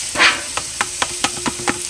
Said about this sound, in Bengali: বেগুন আর টমেটোটা এইভাবে একটু খুন্তি দিয়ে কষে নেব।